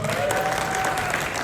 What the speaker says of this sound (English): another round of applause for Lana.